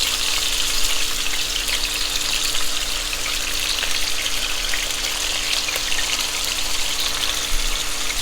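Beef for beef and broccoli sears in a hot pan, a loud, continuous close-up sizzle with an even, unbroken hiss throughout.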